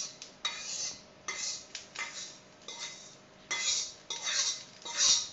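Spoon scraping roasted white sesame seeds out of a kadai, a series of gritty metallic scrapes and light rattles in uneven bursts, close and moderately quiet.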